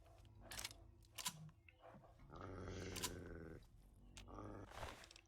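A dog growls in the video game Fallout 3, rough snarling bursts mixed with clicks and other game sounds, fairly quiet overall, with no talk.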